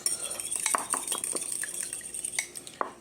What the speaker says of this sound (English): make sure the butter and the egg are well incorporated, well mixed together